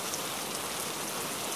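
Heavy rain pours steadily on a night, a dense, continuous hiss of falling water with no pauses, close and evenly loud throughout.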